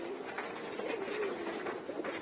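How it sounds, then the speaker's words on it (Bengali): Pigeons coo softly and continuously at close range, low rolling calls overlapping with no talking. "এগুলোর বেশিরভাগগুলি আমার গত বছরের কবুতর।"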